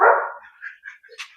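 Dogs of a guard squad, German Shepherds and Cane Corsos among them, give one loud nearby bark followed by softer yips and whimpers.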